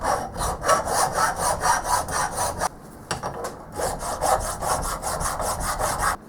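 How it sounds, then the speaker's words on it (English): Rhythmic back-and-forth rasping as a metal file works the bottom of an irregularly shaped lathe tailstock base, steady strokes with a brief pause partway through, close and loud. "I think I may need to do some filing on the bottom here though."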